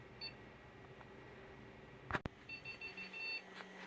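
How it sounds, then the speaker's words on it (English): Short electronic beeps from a computer during a system update, a couple of tones near the start and a run of repeated beeps after a sharp click, over steady background noise. "Computer's making a lot of beeping now"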